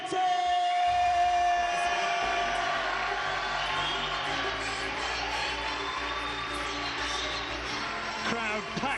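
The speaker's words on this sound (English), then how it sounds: "Crowd packed in here and giving Martin Gethin a huge reception" A packed boxing crowd cheers and whoops for fighter Martin Gethin as he enters the ring, with loud, sustained roaring and whistles and a voice talking over the noise.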